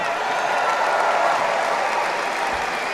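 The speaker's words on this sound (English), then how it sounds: "Let's give them a round of applause as well." Sustained applause from a large crowd at a Donald Trump campaign rally in Grand Rapids, Michigan, a dense steady wash of clapping holding at even loudness throughout.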